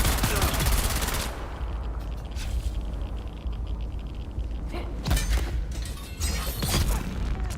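Gunfire from a weapon in the video game Dune, a dense run of rapid shots and bursts with scraping, mechanical clatter, loud and steady across the whole stretch.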